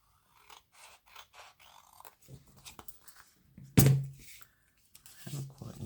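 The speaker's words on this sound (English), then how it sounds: "I'll just trim up around those edges" Scissors trimming around the edges of glued paper in a card-making project, a series of short close snips followed by a louder clunk, with some soft speech in between.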